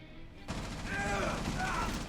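Gunfire during a Rainbow Six Siege video game match, a sharp onset followed by a steady rattle of shots mixed with mechanical game sounds.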